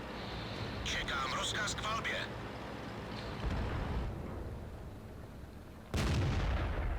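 Tank cannon shots from World of Tanks ring out, a couple of sharp blasts with a heavy boom near the end, while someone talks over the game noise.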